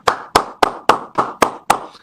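A crowd at a cricket match applauding, heard as seven evenly spaced, crisp claps in a steady rhythm, close and fairly loud.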